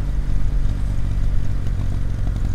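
Air-cooled Kawasaki W800 motorcycle engine running steadily and loud, a deep low rumble with rough mechanical clatter as the bike pulls away, continuous throughout with no talk.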